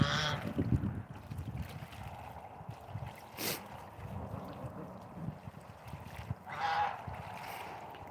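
Domestic geese, including African ganders, honking outdoors: a few short nasal calls in the first second and again near the end, under steady wind noise and distant water or ambient rumble.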